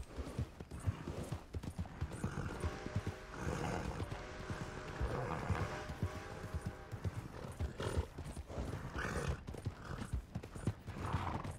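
Horse hooves clip-clop steadily in Red Dead Redemption 2, a continuous near gait with occasional whinny-like snorts over low game ambience.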